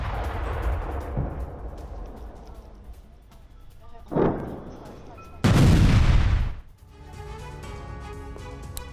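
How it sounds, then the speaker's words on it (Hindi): Bombardment and gunfire on the Lebanon border, a few sharp blasts and heavy booms, with one long loud explosive roar partway through over a low rumbling backdrop. "दोनों तरफ से लगातार हमले हो रहे हैं। बमबारी की चपेट में आम लोग आ रहे हैं।"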